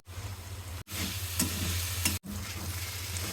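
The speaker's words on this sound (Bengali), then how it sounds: "হলুদ লবণ দিয়ে ভেজে নেবো আলু।" Potatoes frying with turmeric and salt crackle in a steady, close sizzle with a low hum underneath, cut by two brief silent breaks, with a few stirring scrapes and no talking.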